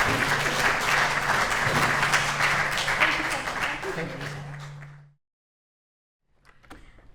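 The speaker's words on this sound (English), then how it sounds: "please give her a huge round of applause" An audience at a Pride speaking event gives loud, sustained applause for about five seconds, then it cuts to silence before faint voices and room sound resume.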